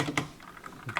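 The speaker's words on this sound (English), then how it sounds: "This keyboard is really loud, and there is a slight ping" Epomaker Skyloong SK61 mechanical keyboard clicks loudly with a slight ping, a handful of close, crisp keystrokes in an uneven typing rhythm, heard alone without talk.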